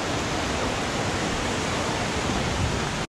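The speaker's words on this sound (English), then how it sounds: "show you in detail this amazing mini waterfall" Small waterfall on a hiking spot in Lebanon, a steady broadband rush of falling water that holds close and loud throughout, cutting off abruptly at the very end.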